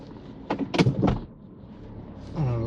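Loose, improperly stowed back seat clunking in the rear of a 2020 Ford Ranger FX4, a few short knocks in quick succession, fairly close, then a rising low hum at the end.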